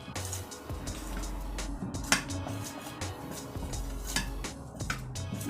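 Dry cake ingredients with cinnamon are mixed in a bowl, a utensil scraping and clinking against the bowl in quick repeated strokes, close and fairly steady, with a few sharper knocks.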